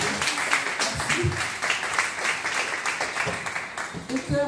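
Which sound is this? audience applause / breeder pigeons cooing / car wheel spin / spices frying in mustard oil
audience applause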